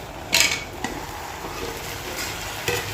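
A spoon stirring curry in a pan, with a few sharp scraping clinks against the metal over a soft steady sizzle, close and fairly quiet.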